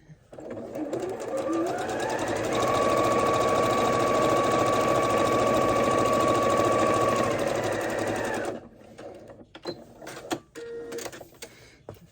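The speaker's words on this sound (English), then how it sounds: "So let's get another piece and sew it onto the other side" Quilt fabric pieces being joined on a sewing machine, its motor whirring steadily for about eight seconds with a faint tonal hum before stopping, followed by a few small clicks and handling sounds.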